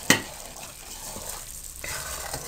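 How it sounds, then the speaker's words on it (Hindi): Halwa mixture being stirred with ghee in a pan on the stove, a soft continuous scraping and gentle sizzle after a brief sharp knock at the start. "अब आप इसको मिक्स करें"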